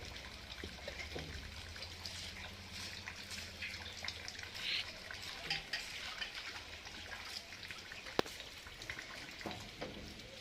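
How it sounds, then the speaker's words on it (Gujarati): Rain falling steadily on the ground and surfaces while a cow is milked, a continuous soft patter and trickle with one sharp brief knock near the end, and no talking. "બહુ વરસાદ છે"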